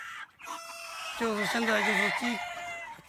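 Chickens on a poultry farm, with a rooster crowing loudly and nearby, its drawn-out call rising and breaking over a dense background of clucking and cackling hens.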